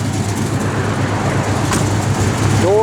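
A 1972 Chevrolet Nova SS engine runs at a steady idle, its low rumble constant and close throughout with a faint hum over it.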